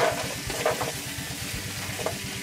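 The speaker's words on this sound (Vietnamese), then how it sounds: "Đây mình chiên khoai môn ha." Taro frying in a pan in a rural Mekong Delta kitchen, a loud, continuous close sizzle with crackling and stirring scrapes, no voices.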